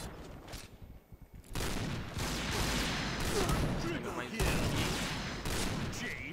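Rapid bursts of gunfire in the video game Point Blank crackle and boom almost continuously, loud and dense, with someone speaking Portuguese over the action.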